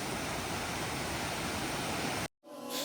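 Durga Suvarna waterfall on the coast, a loud, steady broadband roar of rushing water that cuts out abruptly near the end, followed by quieter water and ambient sound.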